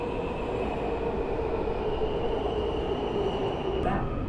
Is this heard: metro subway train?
yes